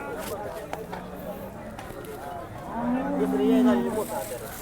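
Cattle low and moo at a busy Baramati cattle market, with one strong, drawn-out moo rising near the middle. Murmuring voices and market bustle carry on throughout.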